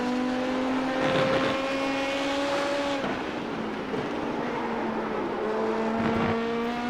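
Race cars in a Le Mans-style racing video game, a Porsche and a BMW among them, hold loud, steady engine tones that shift pitch as they accelerate and change gear, with a second car's whine layered close by.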